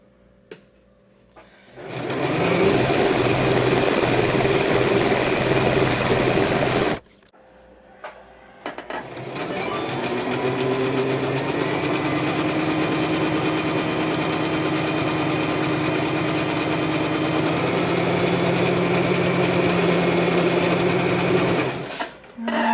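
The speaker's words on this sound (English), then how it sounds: "Sewing the hem" A sewing machine stitches a long dress hem in two sustained, steady runs, the first about five seconds and the second much longer, broken by a short pause, close and fairly loud with a constant whirring drone.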